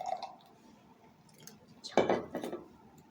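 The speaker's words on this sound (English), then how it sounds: "Add my water." Water poured into arbutin powder and stirred while making a homemade whitening lotion, giving a faint liquid trickle followed by a louder splashing, clinking mix at the end, alone without talk.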